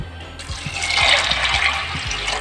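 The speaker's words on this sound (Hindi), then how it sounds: "तीन गिलास पानी डालेंगे क्योंकि ढाई कप हमारी दाल है।" Water poured from a glass into a pot of lentils for cooking dal, a close, gushing splash that swells and then keeps running steadily.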